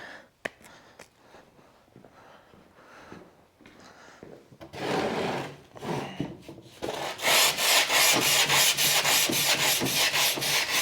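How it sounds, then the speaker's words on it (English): Sandpaper of 180 grit is rubbed by hand over a carbon fiber front splitter, starting with scattered light scrapes and building into loud, rapid, rhythmic back-and-forth strokes near the microphone. "Oh, this sands out nicely, you guys."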